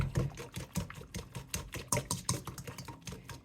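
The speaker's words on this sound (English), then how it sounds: "So I decided I'm going to use a whisk" Whisk stirring oats in a bowl, a steady quick rhythm of soft scraping clicks and taps, close and fairly quiet.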